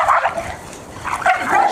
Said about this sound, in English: These are my two brown dogs jumping out, and this is Bex, who's a lovely young Rottweiler.